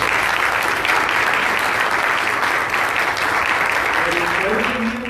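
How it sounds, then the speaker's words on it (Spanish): Sustained, dense applause from a conference audience fills the room, honoring a female doctor after her talk on arterial hypertension; steady, loud clapping runs throughout without pause. "por favor, otro aplauso, doctora"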